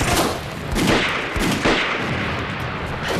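Rapid gunfire in a war drama about snipers during the anti-Japanese war, a series of loud close shots in an irregular volley with echoing tails.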